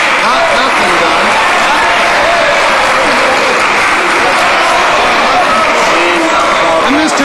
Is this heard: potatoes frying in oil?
no